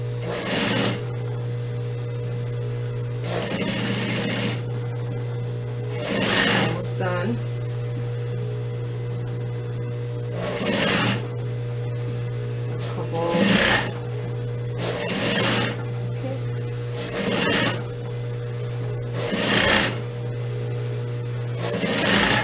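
A sewing machine stitching black skirt fabric runs in short, close bursts of rapid chatter separated by pauses, over a constant low mains hum.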